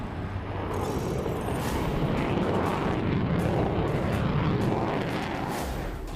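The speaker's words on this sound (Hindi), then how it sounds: "यूपी के गंगा एक्सप्रेसवे पर दमखम दिखाते भारत के ये जंगी विमान" Indian Air Force fighter jets, Rafale and Mirage, roar over the Ganga Expressway airstrip in Shahjahanpur, a loud continuous broadband jet rush that holds steady throughout with no pauses.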